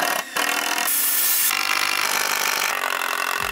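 A saw cuts through a small piece of wood during an outdoor kitchen build in Northern Italy, making steady, close rasping strokes that change tone midway and continue to the end.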